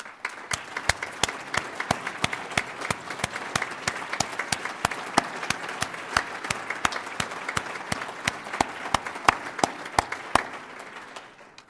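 An audience at a civic hall of fame induction ceremony applauds award recipients, a steady, loud wash of clapping that carries on evenly throughout with no talk over it.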